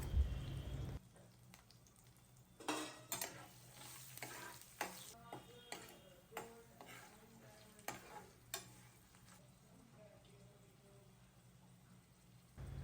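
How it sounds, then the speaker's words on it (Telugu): Chopped green chillies fry in a pan for mango rice, with a spatula scraping and stirring in an uneven series of soft knocks over a quiet, continuous sizzle. "ఫైనల్గా మనం కట్ చేసి పెట్టుకున్న పచ్చిమిర్చి వేసుకొని ఒక వన్ మినిట్ వేయించుకోండి"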